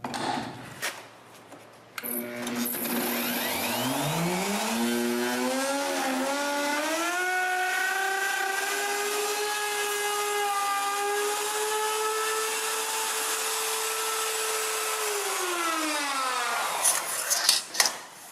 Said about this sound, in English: I can route away the boxes holes.